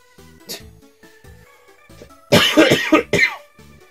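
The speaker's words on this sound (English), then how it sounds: "if I wasn't coughing so much" A person coughs several times in a harsh rough cluster over a soft game music background with beeping tones, the loudest coughs bunched close together near the end.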